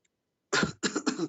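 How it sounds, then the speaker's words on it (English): Three harsh coughs come in quick succession after a short silence, close and clear. "You need to cough a lot."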